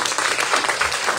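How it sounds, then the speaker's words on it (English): Brief, lively applause at a membership meeting, a dense, fairly loud burst of many people clapping together with no voices. "Another applause because they did it, you know."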